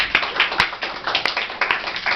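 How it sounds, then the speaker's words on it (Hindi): A few hands clap in quick, uneven bursts from students in a classroom, sharp close claps scattered over about two seconds, with no one speaking. "ताली बजाओ।"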